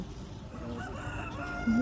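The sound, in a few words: rooster crowing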